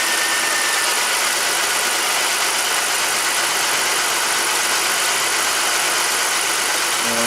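A 2006 BMW X5 engine with a random misfire idles with propane added, a loud, steady, close mechanical drone with no talk over it.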